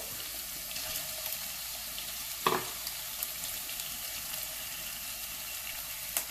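Pork frying in a pan with chili, ginger and garlic gives a steady, fairly quiet sizzle, with a louder scrape or clatter near the middle and a few light taps.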